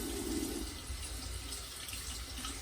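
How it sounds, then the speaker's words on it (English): Tap water runs steadily into a sink as hands are washed after applying hair product, a constant close hiss with a slight splashing change early on and no talk. "it's always good to wash your hands too"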